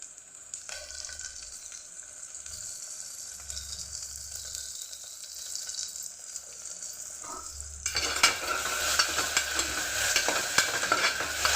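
Onions with ginger garlic paste sauté in a pan, a soft continuous frying hiss with occasional utensil scrapes, swelling into a louder, brighter sizzle partway through as more goes into the pan.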